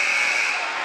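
The game-clock buzzer at a high school basketball game, Ocean City at Holy Spirit, gives one loud, steady electronic tone that holds evenly for nearly a second.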